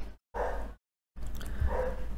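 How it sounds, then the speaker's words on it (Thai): A dog barks in two short bursts separated by a gap, fairly close and moderately loud. "มีเสียงมาเห่าด้วยครับ"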